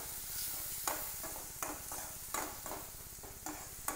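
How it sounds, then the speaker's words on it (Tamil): Onions frying in a generous amount of oil, stirred in a regular rhythm: a continuous close sizzle punctuated by about five sharp spoon scrapes spaced under a second apart. "பாருங்கள் ஆனியன் நல்லா ஃப்ரை ஆயிடுச்சு"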